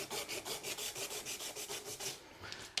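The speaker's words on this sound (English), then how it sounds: "So by doing that, we just use the sandpaper," Hand sanding of a .370 graphite shaft with sandpaper, tapering it toward the tip: a steady back-and-forth rasping rub in about a dozen even strokes, close and fairly quiet, with no talking.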